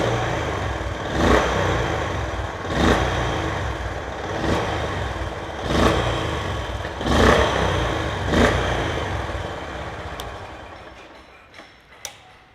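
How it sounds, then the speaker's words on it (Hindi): Honda CB350 motorcycle exhaust revving in six even throttle blips about every 1.5 seconds, each swelling then falling back to a mellow idle, moderately loud and close, ending with a few sharp clicks and no talk. "ये बहुत ही सूदिंग प्यारा एग्जॉस्ट है"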